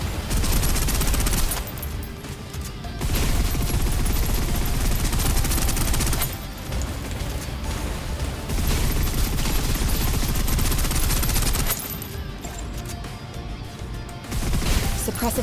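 Sustained suppressive gunfire in the PC shooter Snowbreak, dense rattling bursts running almost continuously with brief lulls, loud and close throughout.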